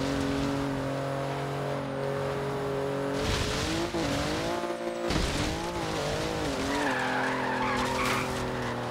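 In the Forza Horizon 3 racing game, a car slides and skids with loud tire squeal over a steady engine drone, the squeal rising and wavering in bursts through the middle.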